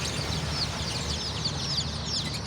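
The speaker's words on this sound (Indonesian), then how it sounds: "Ayam kampung asli, bukan joker," A crowd of native Indonesian village chicks (ayam kampung) cheeps steadily in a dense, overlapping chorus, close and fairly loud, with a low background rumble underneath.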